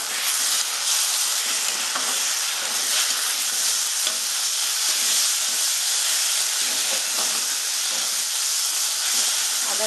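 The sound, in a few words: ginger garlic sizzling in hot oil with fried onions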